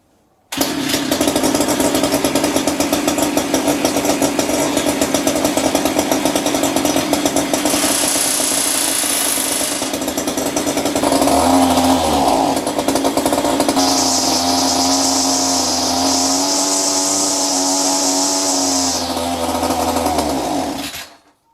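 Petrol strimmer with a carburettor fault that bogs down and won't rev, started on choke, running loud and steady with its pitch shifting as the throttle opens and eases, and a high whine rising in the second half.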